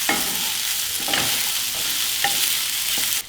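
Soya manchurian pieces sizzle and crackle steadily in hot oil while being stirred, with a few distinct scraping strokes of the spoon through the pan, close and loud, with no voices.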